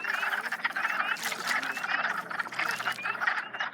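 Wood frogs croak in a dense spring chorus, a continuous run of raspy, clucking calls that overlap one another at moderate distance, with no voices.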